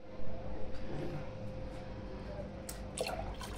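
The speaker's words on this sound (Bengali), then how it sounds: "পানি একটু কম মনে হচ্ছে, আমি এটাতে আরও পানি দিব" Water pours and drips into a container holding a phone sealed in a waterproof cover, with soft splashing and trickling close by and a few sharper drips near the end.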